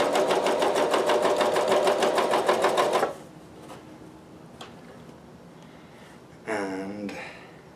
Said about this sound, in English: I'm cover stitching it with the fuzzy side, or the very chain stitch side on the front first.